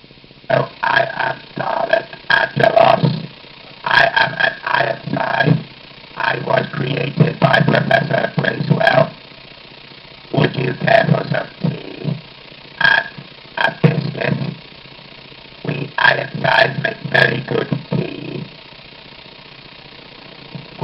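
Dalek voice made by speaking into a microphone through a homemade ring modulator; buzzy, metallic, robotic phrases come in choppy bursts separated by short pauses over a steady low hum.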